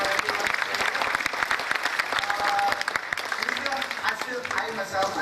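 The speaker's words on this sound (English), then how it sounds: "Let's give big round of applause for everyone." An audience at the close of a session at a technology conference breaks into sustained applause, a dense patter of clapping that carries on steadily for several seconds.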